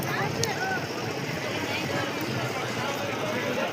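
A tourist boat crosses the sea back toward Talsari Sea Beach, its motor giving a steady, fairly faint drone with broadband wash. A person talks over the constant hum.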